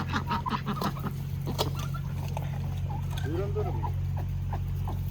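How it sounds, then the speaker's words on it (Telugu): A brooding hen on a mango farm clucks in short low bursts among scattered bird chirps and patter, over a steady hum in the background. "పొదిగే కోడి"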